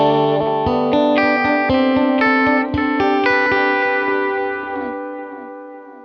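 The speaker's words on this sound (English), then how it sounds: "the sound you just heard was the tape model that's built into the triple delay." Electric guitar through the tape-model delay of a TC Electronic Flashback Triple Delay pedal: a run of clean picked notes and chords, each echoed with soft repeats that linger and fade out at the end, loud and close, no talking.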